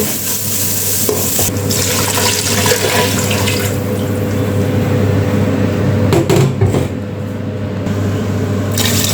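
Water is poured into a pot of Thai jungle curry with tilapia and fragrant curry paste. A loud, steady gushing and splashing runs throughout, with light sizzling and stirring and no talking.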